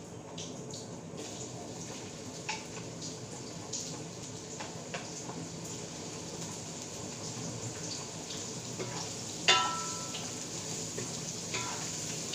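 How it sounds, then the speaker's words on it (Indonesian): Onions frying in plenty of oil give a steady, close hiss and crackle with small pops throughout, with a sharper spatter near the end and no voices. "Kita goreng bawang dulu."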